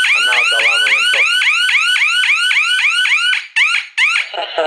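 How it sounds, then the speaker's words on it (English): A GSM home alarm system's siren wails loudly and up close, repeating a rapid rising whoop about every quarter second for over three seconds before breaking into short stuttering bursts at the end. "And now the alarm went off."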